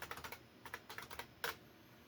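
Keys clatter on an AT&T XP-1076 (Olivetti M380) computer keyboard in a quick, even run of faint keystrokes, ending with one sharper press.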